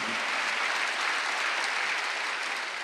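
Church congregation clapping at a Wednesday worship service, a dense, steady wash of applause from many hands filling the room evenly with no voices above it.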